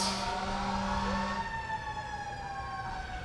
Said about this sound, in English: we've heard all these sirens